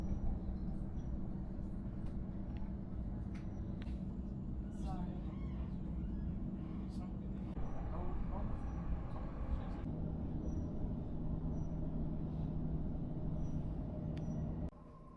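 Passenger train running in Sydney, a steady low rumble and rattle of the carriage heard from inside, with brief shifts in the noise and a drop at the very end.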